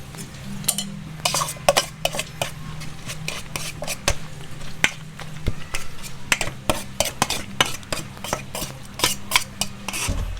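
Onion and calamansi are mixed by hand in a bowl, a busy run of rhythmic wet scraping and clattering strokes that continues steadily, close and fairly loud, with almost no talk.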